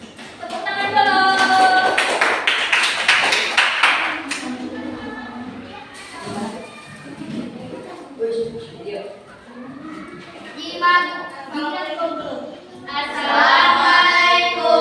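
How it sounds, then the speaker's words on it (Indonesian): A burst of clapping from a group, mixed with children's voices talking and calling out in an Indonesian classroom as a student group comes forward to present. "Tepuk tangan dulu."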